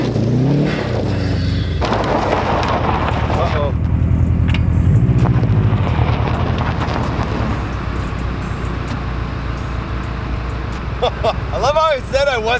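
A Subaru WRX is driven hard over a rough, broken winter road, its engine roaring loudly and steadily throughout, with cabin rattles and someone talking over the noise.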